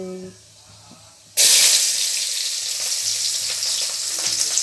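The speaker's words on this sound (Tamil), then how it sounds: "அது நல்லா பொரியல் சவுண்டு கேட்கட்டும் நல்லா பொரிய சவுண்டு கேட்டதுக்கப்புறம்" Mustard seeds hit hot oil for a tempering and burst into a sudden loud, dense sizzle and crackle that carries on steadily after a short quiet opening.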